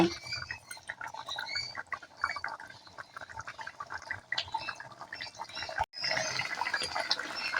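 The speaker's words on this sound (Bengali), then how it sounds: "তো আমি মাছগুলো দিয়ে দিলাম এক মিনিটের মতো ফুটে গেলেই আমি নাবিয়ে নেব" Rohu fish pieces simmering in a pan of spiced curry, with irregular bubbling, popping and wet liquid sounds up close, briefly cutting out before the bubbling resumes.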